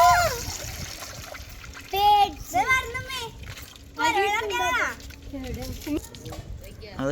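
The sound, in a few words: water being poured into a cooking pot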